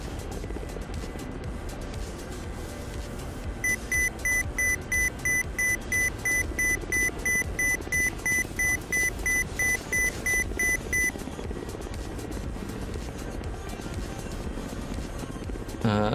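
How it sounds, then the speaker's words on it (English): A helicopter in DCS World flight simulator gives a continuous, loud rotor and engine drone. A rhythmic beeping warning tone pulses for several seconds over it, then stops while the drone continues, with no talking. "A helicopter keeps making noises."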